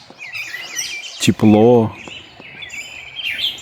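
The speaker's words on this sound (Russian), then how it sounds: "Поют птицы." Small birds chirping and warbling outdoors beside a river on a warm sunny day, bright trills running through the background while someone speaks briefly in the middle.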